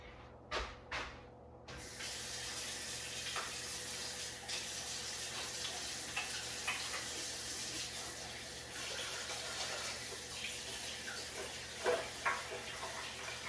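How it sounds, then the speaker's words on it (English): Hands rinsed under a running kitchen tap while baking sour cream and chive biscuits: a steady close stream of water splashes continuously, with a few brief clunks at the start and small knocks throughout. "I'm just going to rinse my hands off so I don't make my knife super messy"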